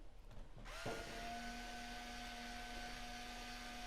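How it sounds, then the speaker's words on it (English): A small handheld drill unscrews spoke nipples on a 1957 Harley-Davidson Sportster wheel during restoration, starting with a brief burst, then settling into a steady close whine with sustained tonal hum. "I'm just going to go ahead and use my little drill here and just go ahead and unscrew the spoke nipples."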